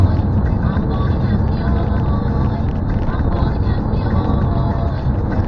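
A car drives along the road to Aflao, the Ghana–Togo border town, with a steady, loud engine and road rumble continuing without pause throughout.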